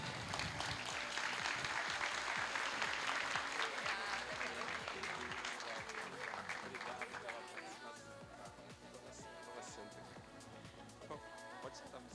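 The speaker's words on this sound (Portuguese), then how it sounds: "Mas eu queria uma salva de palmas para Cati Medeiros, do grupo Parve." Audience at a company after-sales meeting applauds a guest, a full round of clapping that gradually thins and fades while music and some voices carry on underneath.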